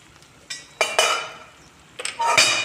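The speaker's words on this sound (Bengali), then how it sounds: "এখন ঢাকনাটা খুলে দেখি" A metal lid lifted off a pot of potato, pumpkin and bitter gourd curry, with several close, bright clanks and scrapes in a quiet kitchen and no talking.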